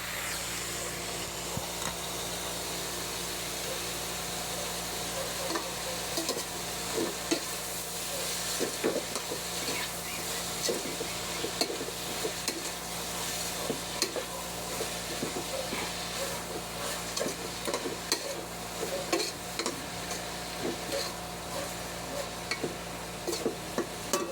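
Goat innards sautéing with garlic and ginger in a pan, a steady frying sizzle and hiss with frequent scraping stirs and clinks of the utensil throughout, going on at length with no talking.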